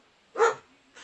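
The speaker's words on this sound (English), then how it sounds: "If you hear any barking or clapping in the background, the National Dog Show's on right now in the other room." A single short dog bark from the National Dog Show playing on a TV in another room, faint and muffled, followed by a weaker second sound.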